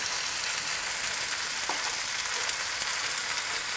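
Squash and onions frying in a pan make a steady, close sizzle, a dense crackling hiss that holds an even level throughout, with one brief faint clink partway through.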